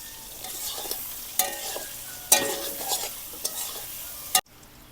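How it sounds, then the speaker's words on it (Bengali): Paneer pieces fry in a pan, a soft steady sizzle punctuated by several sharp scraping stirs of a utensil, close by with no voices, ending with a final clack before quiet. "পনিরটা হালকা ভাজা হয়ে গেছে"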